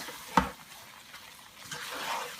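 Gram flour and semolina being stirred and roasted in a pan give a sharp scrape or tap, then a soft, faint sizzling rustle that swells slightly toward the end.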